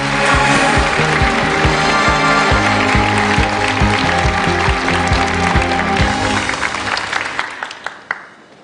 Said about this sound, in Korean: 여러분 박수를 청해 주십시오